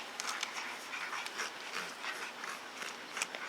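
French Bulldog puppies tug at a rope in a play game, with soft panting, small whimpers and scuffling bursts close by, continuous and fairly quiet throughout.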